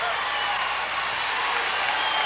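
Crowd at a 1999 Big Ten women's basketball game between Wisconsin and Rutgers cheering and clapping, a steady, dense roar of applause that holds at even loudness throughout, with commentary voices blended underneath.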